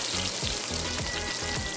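A whole onion sautéing in a pan for a Filipino pork pochero, giving off a steady, dense sizzle with faint bubbling and no break in the frying.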